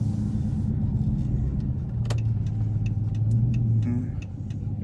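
A straight-piped 2013 Chrysler 300C puts out a steady, deep exhaust rumble heard from inside the car, with faint ticking clicks over the drone and no talking.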